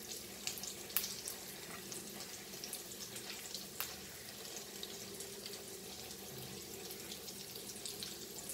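Goan sausages fry in rava in a pan, giving a faint, steady watery sizzle with a few sharp crackles and pops, heard alone without talk.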